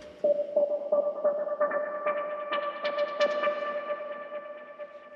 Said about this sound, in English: automated with the reverb